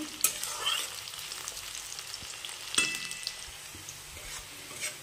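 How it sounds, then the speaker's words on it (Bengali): Onions frying in a pan, a continuous close sizzle with a few scraping strokes of a spatula as they are stirred. "পেঁয়াজটা নড়াচড়া করবো, হালকা একটু লাল ব্রাউনিশ কালার হয়ে এলে"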